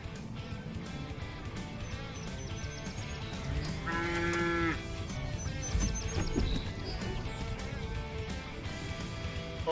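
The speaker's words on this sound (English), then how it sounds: "look at these cows here" Cows in a field moo, with one clear, loud call in the middle and fainter lowing around it, plus faint birdsong and outdoor background noise.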